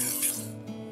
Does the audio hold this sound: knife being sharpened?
yes